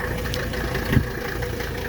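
A 1983 Mercedes 300D diesel engine, still cold and just started, idles at a steady, even rumble with a single faint knock partway through.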